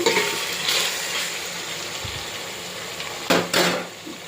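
Ginger paste fries in a pan for vegetable rice, giving a loud, steady, close sizzle with a few brief scrapes and clinks from stirring.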